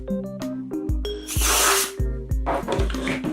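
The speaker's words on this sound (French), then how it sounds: "je conseille quand même de passer un coup de bombe d'air comprimé pour pouvoir vraiment enlever les dernières" Compressed air sprayed from a can to clean the viewing chamber of a Yashica B camera: two loud hissing bursts, one longer and one shorter, between tonal music notes.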